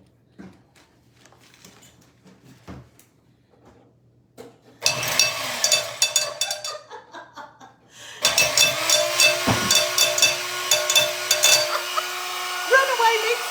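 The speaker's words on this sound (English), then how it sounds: "Runaway mixer." A runaway stand mixer whirs loudly in a kitchen while making carrot cake, starting and stopping in two long bursts with a high motor whine, after quieter clicks and handling noises.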